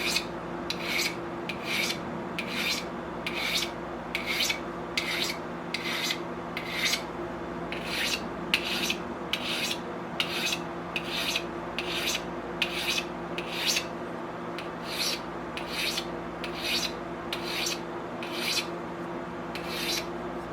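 Light, even strokes of a file or sharpener across a broadhead arrow tip, about twenty rhythmic rasping passes in steady succession, close and clear with no talking.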